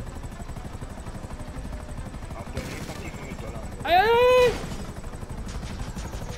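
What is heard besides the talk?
helicopter in video game GTA V Online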